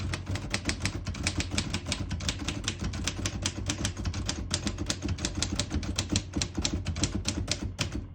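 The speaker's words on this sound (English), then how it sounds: "Beautiful typing machine, very popular model." Rapid, steady keystrokes on a popular-model typewriter set to its red ribbon, sharp clacks in a dense continuous rhythm, close and fairly loud with no voices.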